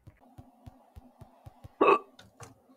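A run of small, evenly spaced hiccups sounds close up, each a short clipped gulp, with a louder breathy vocal burst partway through and one more sound after it.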